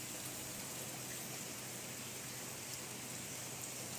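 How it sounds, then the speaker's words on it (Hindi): Rain falls steadily in a soft, even hiss, faint and continuous with no voices. "बारिश हो रही है, अभी तेज़ थी लेकिन अब जो है बहरहाल धीमी हो गई"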